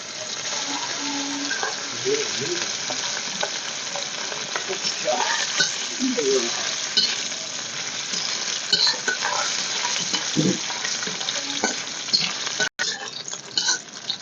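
Dried fish lightly frying in hot oil in a home kitchen, a steady close sizzle with occasional stirring scrapes and clinks running throughout, with no talking.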